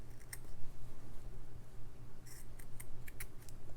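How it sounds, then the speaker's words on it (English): Scissors snip carefully along the edging of a hand-stitched fabric ornament, a handful of sharp, close cuts spaced irregularly over a low steady background hum. "I'm just going to very carefully trim the edging off,"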